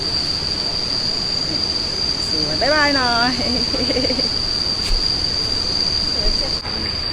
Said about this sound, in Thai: แล้วก็ได้ยินเสียงน้ำตก